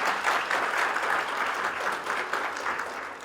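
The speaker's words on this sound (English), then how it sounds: "big clap for Yusra's mother first" Conference audience gives a steady round of applause for a guest's mother, dense close clapping holding level for several seconds with no voices standing out.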